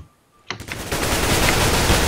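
Sudden burst of rapid automatic gunfire in a competitive tactical shooter match, loud and sustained after a brief quiet start, with dense overlapping shots.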